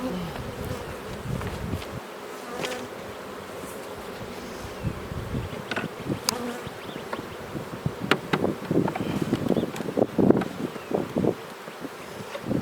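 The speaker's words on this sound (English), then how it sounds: "the bees will start getting all over that pretty quick" Honeybees buzz steadily around a hive while a new package of bees is installed, a dense close hum with individual bees zipping past the microphone, plus some wind and rustling.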